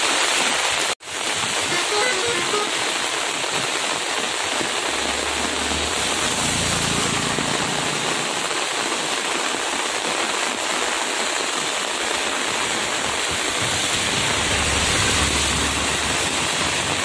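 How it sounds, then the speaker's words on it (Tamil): Floodwater rushing in a swollen river during heavy rain in Tirunelveli, a loud, steady broadband roar of water and rain that fills the whole stretch without pause, with one brief dropout near the start. "ஆற்றுல வந்து வெள்ளம் வெறிச்சனமாக போயிட்டுருக்கு."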